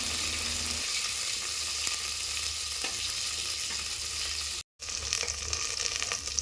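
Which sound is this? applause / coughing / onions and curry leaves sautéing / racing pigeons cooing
onions and curry leaves sautéing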